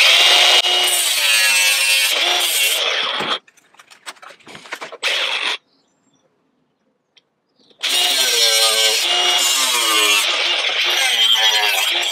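A piece of metal is cut off in bursts of harsh, loud, rasping sawing, broken by a pause with a few clicks and a short silence, then sawing again.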